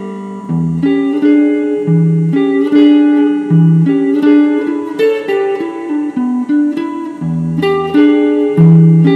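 An electric guitar plays two linked blues licks, a continuous run of bent notes and quick phrases, loud and close with no talking.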